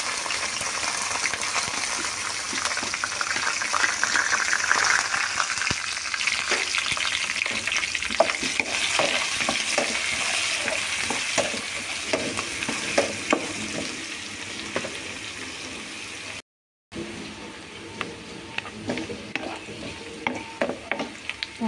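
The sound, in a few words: onion and green chilli pieces frying and being stirred in a pan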